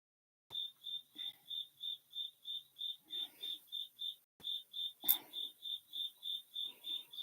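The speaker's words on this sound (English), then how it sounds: "we've got crickets in the house" Steady, evenly spaced cricket chirps repeat close by in a quiet indoor space, with a brief pause and one sharp knock partway through.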